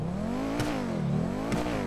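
A Pegassi Osiris supercar in GTA 5 revs continuously, its engine note sweeping up and down in pitch with two sharper surges, loud and close throughout.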